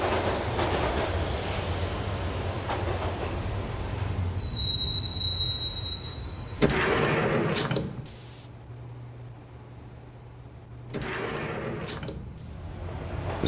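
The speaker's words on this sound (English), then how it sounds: "the train doors had already shut behind me, and I was in for the ride" Subway train ride in the video game Max Payne Mobile: steady rumbling wheels with a high metallic squeal, then the rolling noise drops and rises again, no voices.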